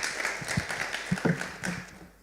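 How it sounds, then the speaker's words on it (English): Applause from a wildlife science conference audience, a short, scattered patter of clapping with a few louder individual claps, moderately near and fading out at the end. "Let's give him another round of claps"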